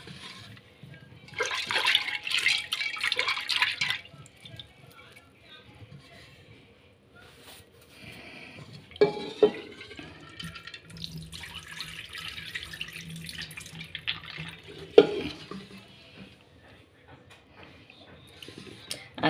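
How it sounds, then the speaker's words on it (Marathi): Tap water runs over chana dal (split chickpeas) as they are washed in a kitchen, with bursts of splashing and pouring broken by quieter pauses and a few light knocks, and soft voices heard faintly at times. "ते छान आता स्वच्छ धुवून टाकणार आहे मी. छान स्वच्छ धुवून टाकायचं आहे."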